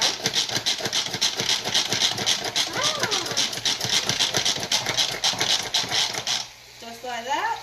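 A manual pump food processor is pushed down repeatedly to dice vegetables for grilled fajitas, making a rapid run of close mechanical clacks and ratcheting taps that stop near the end, with a brief voice audible.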